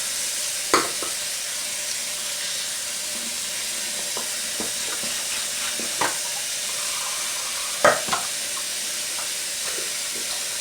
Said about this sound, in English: I rinse my brush out while the water is getting cold